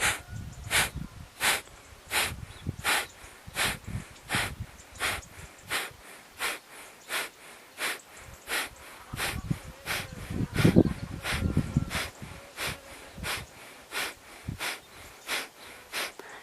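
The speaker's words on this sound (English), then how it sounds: "keep this pumping out breath going" Forceful pumping out-breaths in pranayama breathing practice, roughly one sharp nasal exhale per second, repeating evenly throughout and close to the microphone, with no speech.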